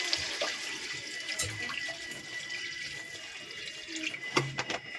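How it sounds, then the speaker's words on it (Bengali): Water being poured into a cooking pan while preparing a spicy amadi fish curry, a soft continuous splashing and trickling that rises and falls with small clinks near the end. "এবার জল দেওয়া হবে বন্ধুরা সামান্য"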